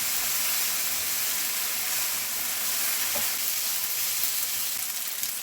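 Spaghetti tossed with chicken and bell peppers in a hot pan gives a steady, loud sizzle and hiss, with faint scraping from stirring running throughout and no talking.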